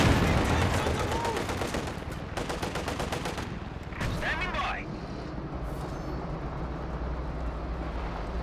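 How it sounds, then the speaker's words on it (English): Rapid bursts of anti-aircraft quad gun fire in the Company of Heroes 2 strategy game, loud repeated staccato volleys in two runs, with other battle noise and rumble continuing underneath. "What was the quad shooting at just then?"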